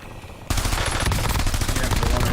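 Rapid automatic gunfire in Call of Duty: Warzone bursts in loud and close after half a second of near quiet, sustained and dense for the rest of the moment.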